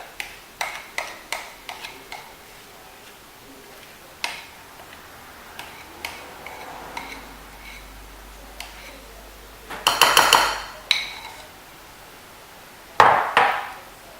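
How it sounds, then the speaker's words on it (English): Wet and dry peanut butter chocolate brownie ingredients being mixed in a bowl, heard as sharp, spaced clicks and taps of a utensil against the bowl, with two louder scraping clusters near the end, quiet and close. "now you want to mix in the wet with the dry ingredients"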